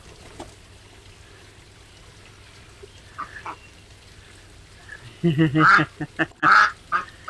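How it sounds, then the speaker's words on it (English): Duck near a backyard pond quacks in a loud burst of several nasal calls late on, after a stretch of quiet outdoor ambience with faint scattered sounds. "Sounds like a duck, correct?"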